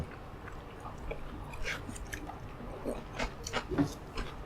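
Close, soft chewing of boiled dumplings (mulmandu), with intermittent wet bites and mouth sounds over about four seconds, fairly quiet and with no talking.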